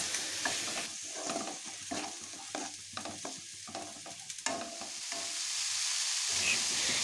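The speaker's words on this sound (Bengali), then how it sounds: "এখন সমস্ত মশলাটা বেশ ভালো করে একটু কষিয়ে নিচ্ছি" A ground coriander-cumin paste with turmeric fries in a pan, giving a steady close sizzle with the soft scrape and shuffle of stirring that rises slightly toward the end.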